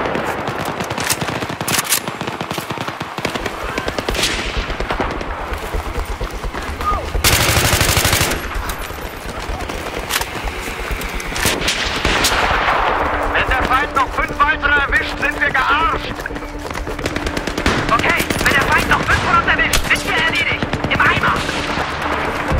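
Rapid automatic weapon fire from the Battlefield 3 multiplayer shooter on Xbox 360, with loud bursts and sustained volleys that carry through most of the stretch alongside other game sounds.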